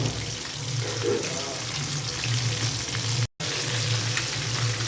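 Chicken 65 pieces fry in hot oil, a constant close sizzle with light stirring as pieces are turned, cut by a short gap.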